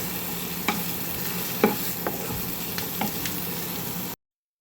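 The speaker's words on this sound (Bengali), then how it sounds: "আমি আমার মতো করে নুডলসটা রান্না করছি" Noodles cooking in a pan give a steady sizzle with a few sharp clinks of a utensil against the pan, close by, before it cuts to silence near the end.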